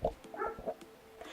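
A dog gives a few short, close barks and yips in quick succession over a brief indoor moment, with no talking over it.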